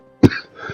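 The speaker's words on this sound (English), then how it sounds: "sorry about all the coughing" One short, abrupt cough bursts out close by and is followed by a faint breathy tail, then a quieter throat sound.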